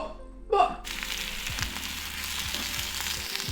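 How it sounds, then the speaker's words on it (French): Thin courgette slices fry in a pan, giving a loud, even sizzle that starts abruptly after a brief vocal sound and carries on steadily to the end. "Je vais ensuite venir peler une courgette et la découper en fines lamelles, et je vais déjà légèrement la cuire à la poêle."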